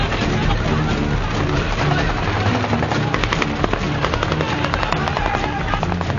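Gunfire and explosions in the war film Black Hawk Down: rapid bursts of sharp cracks and bangs over a dense, continuous battle roar, with rotor-like noise underneath.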